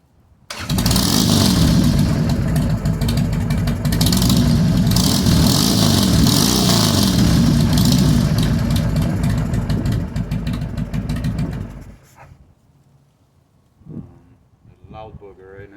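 A Harley Sportster cafe racer with a full fairing cranks over and catches, then runs loud and steady at a rumbling idle for about eleven seconds before cutting off, leaving brief talk afterward.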